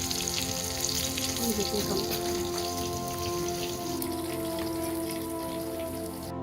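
KFC-style chicken leg pieces crackle and sizzle in hot oil, a dense steady patter of spitting fat throughout, close and fairly loud with no talk over it.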